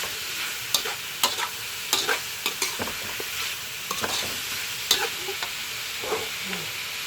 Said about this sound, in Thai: รวนหมูให้มันผับหมูให้มัน สุกก่อน